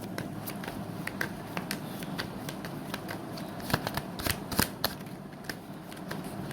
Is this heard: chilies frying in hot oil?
no